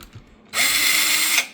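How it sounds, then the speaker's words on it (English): A power drill whirs in one steady burst of under a second while backing screws out of a small cast-aluminum sewing machine being scrapped, close and fairly loud after a quiet moment. "drill to get rid of all the screws"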